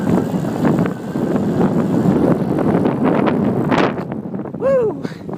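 Wind roars steadily across the microphone as an Easy Motion Neo Race e-bike climbs a hill on pedal assist into a headwind, a loud continuous buffeting rumble with a brief whistling tone near the end.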